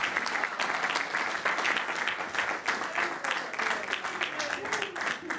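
Lively audience applause at a jazz band concert in a Jersey City club, dense clapping with cheers and voices mixed through it, pulsing slightly in intensity throughout.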